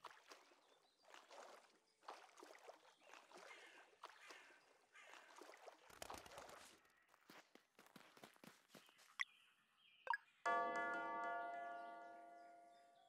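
A doorbell in the video game Sea of Stars sounds as a bright, ringing chime that fades out slowly. Soft footsteps patter for several seconds before it, and two short sharp tones come just before the chime.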